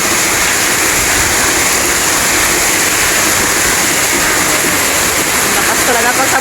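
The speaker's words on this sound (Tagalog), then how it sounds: "Lakas talaga pa sa bukid, guys, yung ulan." Loud, unbroken rush of heavy rain falling over a farm field, a thick, even wash of water noise like a torrent with no pauses.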